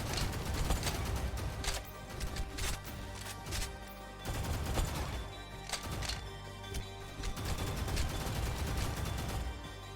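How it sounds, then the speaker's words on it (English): Gunfire aimed at the player in Overly Hardcore Parkour rattles in irregular bursts of sharp shots over a constant game background, fairly close and moderately loud, with no talking. "Who is shooting me from where?"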